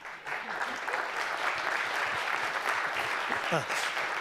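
Steady audience applause fills the room at a housing and employment debate, dense clapping held at an even level throughout, with a brief voice rising near the end.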